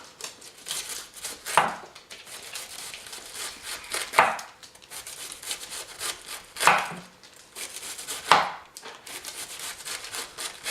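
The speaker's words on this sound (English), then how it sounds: "You just need to start making really thin slices with the cabbage." A knife slicing cabbage thinly by hand on a cutting board, a rhythmic run of soft crunchy cuts with louder strokes every couple of seconds.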